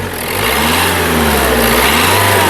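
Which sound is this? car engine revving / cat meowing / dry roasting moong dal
car engine revving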